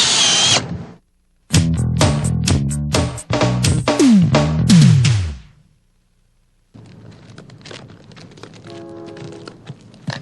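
A power drill drives screws into Decra stone-coated steel roof shingles, giving loud close bursts of whirring that rise and cut off in several short runs, followed by quieter rustling and handling sounds.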